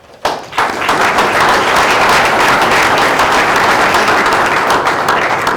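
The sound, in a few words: applause at a school board meeting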